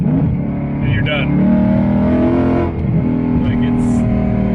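A Ford Mustang engine growls and revs as the driver drops a gear, a loud steady drone that climbs in pitch. A voice talks over the engine noise for most of its length.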